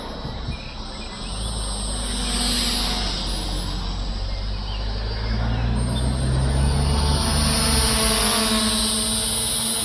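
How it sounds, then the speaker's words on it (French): LOOLINN X23W small drone flying at night in calm air, giving off a continuous high, buzzing propeller whine over a low hum that rises and falls slightly as it moves nearby. "Pilote très bien ce petit drone."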